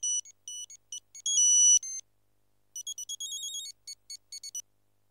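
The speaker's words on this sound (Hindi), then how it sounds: "फोन भी बज रहा है।" An electronic ringtone plays a quick melodic pattern of bright beeps, pauses, then repeats the tune in a second burst.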